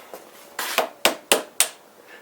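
Gentle hammer taps seating a motorcycle bar-end mirror into the handlebar end, five short sharp knocks spaced about a quarter second apart, close and clear in a quiet space.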